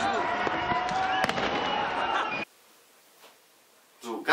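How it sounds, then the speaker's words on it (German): Fireworks rockets fired on New Year's Eve in Cologne crackle and burst densely for a couple of seconds, then cut off abruptly into near silence before a faint new rise of noise. "die wird offensichtlich und extra von den Heranwachsenden aus anderem Land beschossen mit Raketen"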